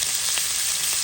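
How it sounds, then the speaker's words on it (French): Onions frying in a pan alongside shrimp for a shrimp and vegetable curry, a steady close sizzle with a few crackling pops, heard alone with no voices. "Je fais revenir les oignons."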